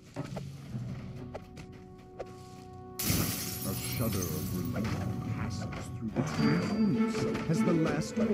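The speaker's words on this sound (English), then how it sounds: "As the last orb in the northwest tunnel shatters." An orb shatters in the video game Dungeons and Dragons Online, a sudden loud glassy crash bursting in midway over background game sounds and ambience, followed by lingering debris and effects.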